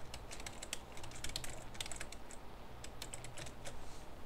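Faint, quick tapping on a computer keyboard while someone types a short description, with irregular bursts of keystrokes over a low background hum.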